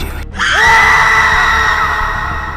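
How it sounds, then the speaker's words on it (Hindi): Two people scream as they are thrown down into a forest valley, a single loud, sustained shriek that starts abruptly and holds for about two seconds. "दोनों की चीख जंगल में गूंज गई।"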